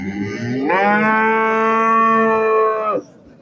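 At a livestock market in Gurumsaroy, a cow about 1.3 m tall gives one long, loud moo close by, steady and droning for about two seconds before stopping abruptly.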